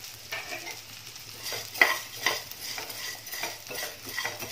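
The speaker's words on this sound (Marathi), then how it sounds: "आता मी 1 चमचा तूप घालून घेतलेला आहे आणि तुपामध्ये हे डिंक आहे ते परतून" Edible gum (dink) frying in a spoonful of ghee in a pan for besan ladoos, with a steady soft sizzle broken by a few sharp scraping stirs of a spoon against the pan, close and alone.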